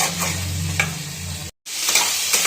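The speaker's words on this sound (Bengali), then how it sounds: "দিয়ে এটাকে ভালো করে একটু নাড়িয়ে দেবো।" Vegetables seasoned with salt, turmeric and cumin being stirred in a pan, a close, loud sizzle with a few scraping strokes and a brief drop-out near the middle.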